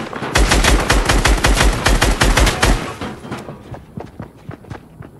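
Rapid automatic gunfire bursts from a Fortnite match, loud and dense for about three seconds, then a few sparser distant shots trailing off with no speech.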